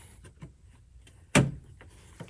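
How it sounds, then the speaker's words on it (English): Power door locks on a car actuate with one sharp, loud thunk from inside the cabin, framed by faint small clicks and quiet interior noise. "Door locks."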